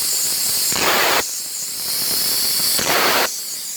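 A plasma cutter's high-frequency start hisses in steady, loud bursts, surging twice with short, brighter blasts over a continuous airy hiss.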